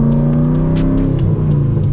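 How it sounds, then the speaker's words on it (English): A 2008 Corvette's LS3 V8 with an aftermarket cam revs up close and loud, a deep lumpy rumble that rises steadily with sharp crackling pops on top. "Can't beat the sound of the LS3 cams. I mean, you hear it, it pops,"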